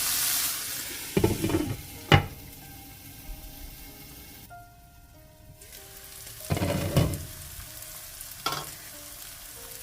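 Tomatoes frying in a pan for a methi paneer curry, with two bursts of stirring and sizzling, a quieter lidded stretch, then more stirring sizzle near and fairly loud, with clinks between.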